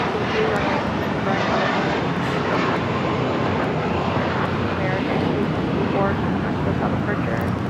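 An American Airlines Airbus A321 takes off at Los Angeles International Airport, bound for JFK: a steady, loud, broadband jet roar that holds constant throughout without a break.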